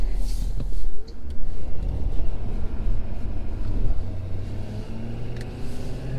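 A 2019 Ford Super Duty pickup pulls away from a stop, its engine a steady low rumble with gradual rising engine tones as it gets moving, heard from inside the cab with faint road noise.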